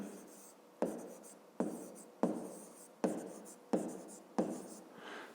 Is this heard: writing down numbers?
yes